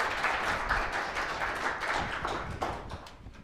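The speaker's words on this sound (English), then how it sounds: "applause for our fine volunteers." An audience applauds the volunteers at a talk on the 2017 total solar eclipse, a moderate, fairly steady patter of clapping that thins toward the end with a few sharper claps.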